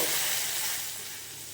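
Semolina halwa frying in ghee with a little water added gives a steady, close, loud sizzle that fades slightly as it settles, with no voices.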